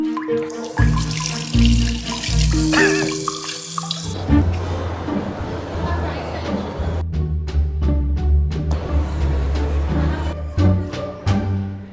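Water running from a tap into a bottle, a loud gushing stream with hollow filling tones and clattering handling, alone without talk.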